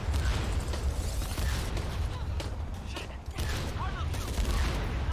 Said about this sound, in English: So we just have to wait for some explosions, shoot 3 barrels.